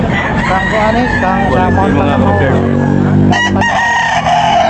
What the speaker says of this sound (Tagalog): Guwapo manok.